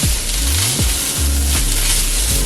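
Spaghetti squash stir-frying in a pan gives a steady, loud sizzle, with repeated scraping strokes of stirring every second or so.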